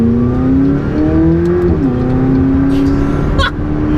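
Engine of a McLaren 675LT sports car heard from inside at a steady cruise, a loud continuous drone whose pitch rises slightly, dips once as it shifts, then holds steady.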